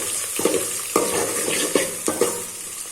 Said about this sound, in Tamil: இப்போ இதை நல்லா வதக்கி விட்டுக்கலாம்.